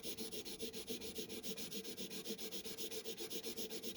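Fake Prismacolor colored pencil scribbling on paper: a close, steady rhythmic scratching of quick back-and-forth strokes, with no voices.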